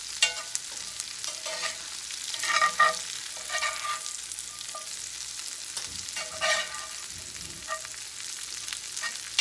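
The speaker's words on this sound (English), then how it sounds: "We just want to cook this until the broccoli is a little bit tender." Broccoli for a bacon and green onion frittata cooking in a pan gives a steady crackling sizzle, with louder spattering bursts and occasional stirring scrapes, and no voices.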